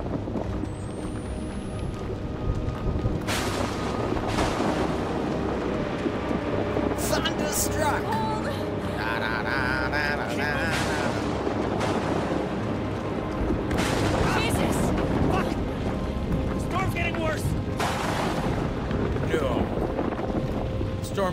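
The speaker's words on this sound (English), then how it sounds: "Tell with all the lightning and things exploding in my face and all." Thunder and explosions in the horror video game Outlast 2, a sustained heavy low rumble filling the scene with repeated loud bursts and crackling surges, steady and intense throughout.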